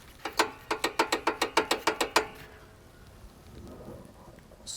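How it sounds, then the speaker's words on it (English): Pulling the hood release lever on a 2022 Toyota Tundra TRD Pro gives a quick train of about a dozen crisp mechanical clicks over two seconds, followed by a soft rustle as the hood opens. "Hood release. And open up the hood, little lever right here."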